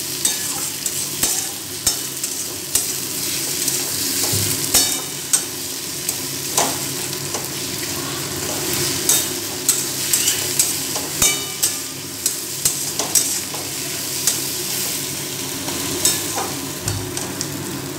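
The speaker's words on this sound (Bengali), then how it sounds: "এবার আমি আদা রসুন দিয়ে ভালো করে আবার আরও আমি প্রায় 5 মিনিট ধরে মিডিয়াম ফ্লেমে রেখে ভালো করে কষিয়ে নেবো" Mutton sizzling with ginger and garlic on a medium flame, a continuous frying hiss broken by frequent sharp spatula scrapes and clinks against the pan, with no speech.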